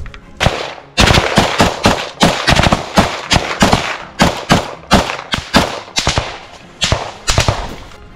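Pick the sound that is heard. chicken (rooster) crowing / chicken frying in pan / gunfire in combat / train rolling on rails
gunfire in combat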